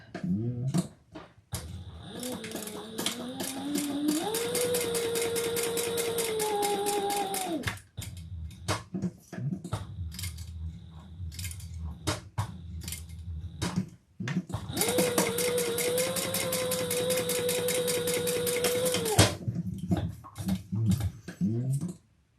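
A sewing machine stitches down the long sides of a fabric bag in two long, steady runs of whirring motor hum. Short pauses and light clicks of handling fabric separate the runs.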